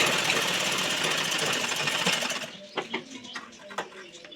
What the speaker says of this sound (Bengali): আমি সেলাই করছি এখন।